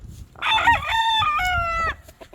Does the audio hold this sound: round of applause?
no